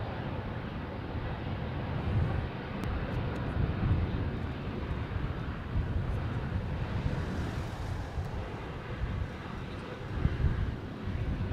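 A Jetstar airliner, Flight 954 bound for Cairns, taxis at the airport, giving a steady, broad engine rumble that holds at an even level throughout with no talk.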